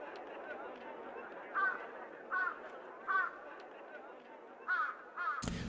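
A crow caws several times in the background, spaced calls of two or three harsh notes against a steady low hum, with a sharp burst at the very end.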